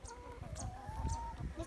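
Chickens cluck close by in quick, uneven bursts while being fed worms, with a thin drawn-out call rising over the flock.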